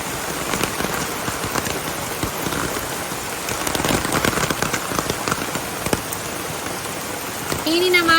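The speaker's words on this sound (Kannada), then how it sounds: "ಮಳೆ ಬರ್ತಾ ಉಂಟು ನೋಡಿ" Steady rain falls outdoors at a farm, a dense, even hiss of drops with scattered sharper hits on surfaces, loud and continuous throughout.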